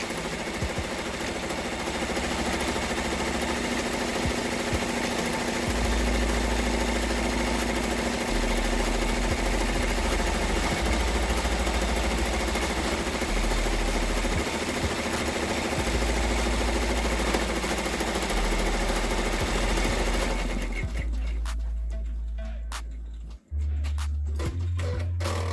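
An embroidery machine stitches an in-the-hoop pleated face mask with a steady, loud mechanical whir and rapid needle chatter, then it winds down and stops near the end.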